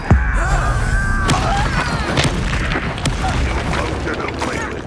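An Expelliarmus spell strikes in Hogwarts Legacy, a booming magical impact with crackling, whooshing effects and sharp hits, loud and close, layered over a speaking voice.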